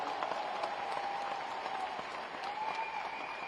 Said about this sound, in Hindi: एक बार मुझे बता दीजिए जोरदार की तालियों।